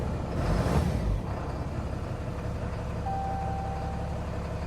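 A 5th gen Ram 2500 diesel pickup with over 3200 engine hours, freshly cleaned EGR, drives along: a steady low engine rumble and road noise, slightly louder at the start, with no talk.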